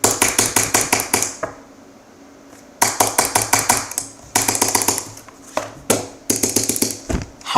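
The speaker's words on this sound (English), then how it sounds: "If I remove the mouse pad and put it on here, listen to it." A computer mouse clicked directly on a bare desk with no mouse pad gives loud, sharp, rapid bursts of clicks, broken by short pauses, close up with no talking.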